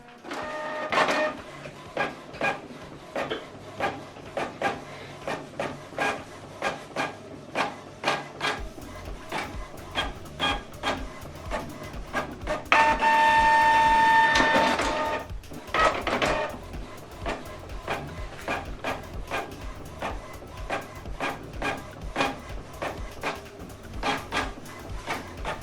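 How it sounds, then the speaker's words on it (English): An office printer running a double-sided print job, with a steady train of rapid mechanical clicks and feed ticks throughout and a louder whirring burst partway through as the sheet is drawn back for the second side. "So this document now we're going to print it on both sides."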